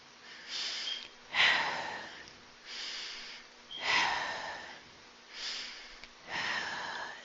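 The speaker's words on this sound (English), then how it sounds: "Those are deep breaths, right?" Slow, deep breaths during meditation, heard close up: about five unhurried inhale-exhale cycles in a steady rhythm, with quiet gaps between them and no talking.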